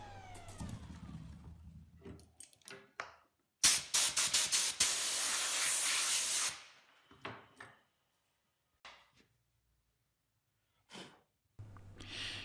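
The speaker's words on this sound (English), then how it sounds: "here I'm just going to try to sand most of it off" Sanding a padauk and tiger maple keepsake box with through dovetails: a loud, sustained hissing rasp lasts about three seconds, set among shorter scraping bursts and quiet gaps.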